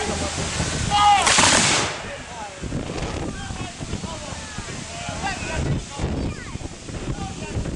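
Musket volley fired by re-enactment soldiers at Falkland Palace in Fife, Scotland, a loud burst early on with shouted commands and talk around it outdoors in wind.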